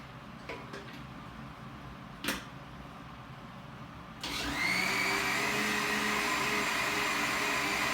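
An electric mixer switches on to blend sunflower lecithin for a homemade liposome mix, giving a steady whining motor drone after a few faint clicks and knocks, close and alone without speech.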